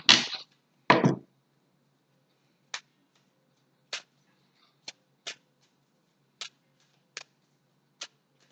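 Cards shuffled at close range in a quiet room: two quick riffling bursts at the start, then a sparse run of single sharp taps and flicks spaced about a second apart.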